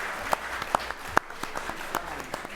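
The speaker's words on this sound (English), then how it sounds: "Let's give them a big round of applause." Sparse, scattered clapping from a small audience at a school board meeting honoring a girls middle school basketball team, individual claps distinct rather than a full ovation.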